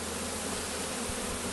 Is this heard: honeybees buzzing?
yes